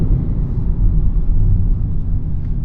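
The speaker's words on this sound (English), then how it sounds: "hitting the rev limiter is so like" An Audi RS6's engine roars hard against its rev limiter in a loud, sustained low rumble that holds steady with slight pulsing, heard from close by with no talking.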